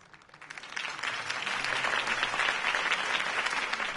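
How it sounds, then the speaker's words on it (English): Crowd applause after a campaign speech in the Batman Telltale video game, building quickly from a few claps into steady, dense clapping that holds loud to the end. "could have heard that applause"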